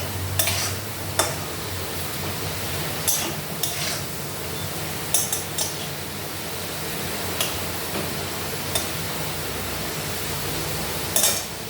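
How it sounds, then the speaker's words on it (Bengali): Potatoes fry in a pan beside fresh leafy greens, a steady low sizzle under occasional sharp scrapes and clicks of a spatula stirring, close and even. "আলুটা একটু ভাজা হবে।"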